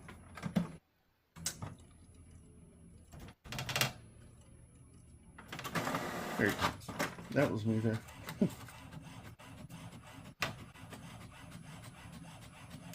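A printer whirs and rasps as it feeds and prints a page, a mechanical rubbing churn with clicks, while a person speaks briefly.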